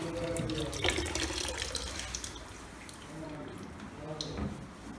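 Tap water runs steadily in a home being cleaned out before a move, a continuous hiss under close, ongoing conversation.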